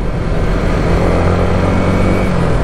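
Loud, dense road traffic roar with a heavy truck among the vehicles, a continuous broadband rumble heard close from a moving motorcycle, with no voices.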